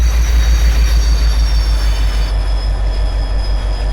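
A train rolls along the track in the farming game Farming Simulator 25, a steady, loud rumble of wheels and railcars with a faint squeal, continuous and close with no talking.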